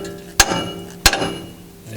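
A sledgehammer strikes a front suspension part on a 2017 Ram 1500 4x4 during a Belltech lowering kit install, making two sharp, loud metallic blows about two-thirds of a second apart, each with a short ringing tail.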